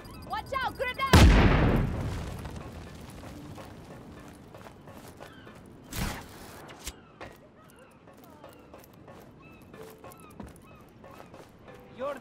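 Grenade explosions and gunfire in the action video game Just Cause 3: one loud, booming blast near the start that decays slowly, a second sharper bang midway, then scattered softer shots and debris under game voices.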